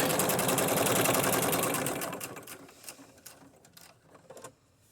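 A sewing machine stitches a junk journal cover in a fast, loud, steady whir for about two seconds, then slows to a few short bursts of stitching and stops.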